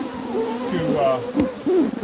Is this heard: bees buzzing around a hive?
yes